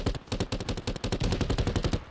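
Rapid bursts of suppressed fire from a Desert Tech MDRX submachine gun in a video game, a steady rattling string of sharp, loud shots with a punchy muffled crack, heard alone with no talk.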